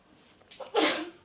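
A single short sneeze, close and fairly loud, rising quickly and fading within about half a second in a quiet room.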